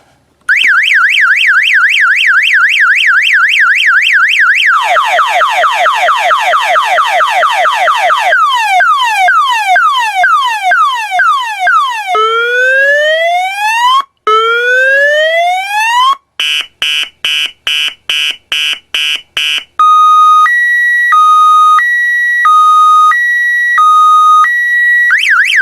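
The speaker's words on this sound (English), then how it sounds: "I'm sure that many of you remember those sounds from car alarms back in the day." Old car alarm cycling loudly through its classic sequence of electronic tones: warbling whoops, rapid descending sweeps, rising chirps, pulsed beeps and a two-tone alternating honk, each pattern repeating before switching to the next.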